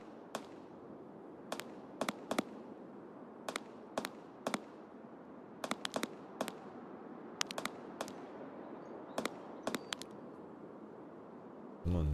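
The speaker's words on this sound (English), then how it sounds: "Someone's shooting at something." Gunfire in the Escape From Tarkov video game, heard as sharp isolated shots and short irregular bursts from a distance over a steady wind-like ambient hiss, with no talking.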